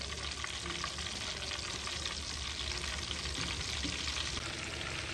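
Chapli kabab cooks on a low flame in oil, giving a dense, even frying crackle that stays steady and close throughout, with no voices over it.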